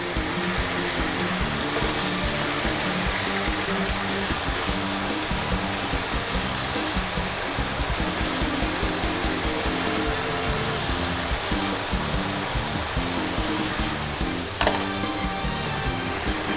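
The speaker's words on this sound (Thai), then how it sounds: "ต่อไปเราก็จะใส่พริกหวานลงไปผัดได้เลยค่ะ" Chicken breast and sliced bell peppers stir-fry in a pan with a steady, even sizzle that runs unbroken throughout over a low rumbling hum, with one brief clatter near the end.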